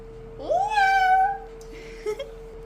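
A single drawn-out meow from a cat, close and clear, followed by a faint short sound and a steady background hum.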